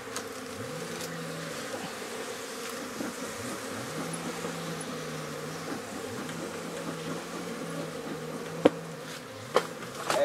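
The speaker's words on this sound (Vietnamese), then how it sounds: "các bác rũ xong thì các bác có thể là thổi hết ong đi nhé" Honeybees swarm around a hive frame as a beekeeper moves a brood frame to strengthen a weak colony. A dense, continuous buzz hums close by, with a couple of sharp knocks near the end.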